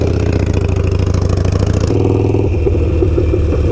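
A Triumph Speed Triple motorcycle engine runs loud and close, a dense, steady mechanical drone whose tone shifts partway through, with no talking.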